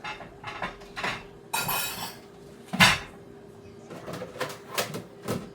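Utensils clink and scrape against a bowl in a home kitchen as food is mixed for a home-cooked meal, in a series of uneven, close clatters with a brief sharp knock partway through.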